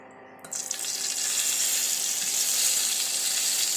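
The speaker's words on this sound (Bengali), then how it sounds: "ডিমগুলো ভেজে দিলাম" Eggs for an egg curry hit hot oil in a pan, bursting into a loud, steady sizzle that swells after a sharp start and hisses on without pause.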